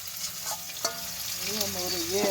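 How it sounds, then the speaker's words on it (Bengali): Fish fries in a pan at home, a steady soft sizzle with an occasional clink of a utensil, while a faint tonal sound drifts in the background. "এখন মা মাছ ভাজছে।"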